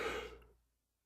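A man gives a tired, breathy yawn that fades out over about half a second, close and quiet.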